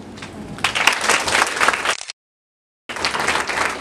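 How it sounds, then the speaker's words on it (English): A room of nursing staff at a hospital yoga and mental health session claps together in a loud, dense burst. The clapping cuts off abruptly into a short silence, then resumes. "Can I see all of you giving a clap?"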